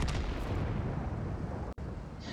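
A tank cannon fires in a tank battle game, a loud, close, booming blast with a heavy rumbling tail that fills the whole moment, broken only by a brief dropout near the end.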